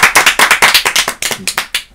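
Steady, fast hand clapping, loud and close, a rapid run of sharp claps that thins out toward the end.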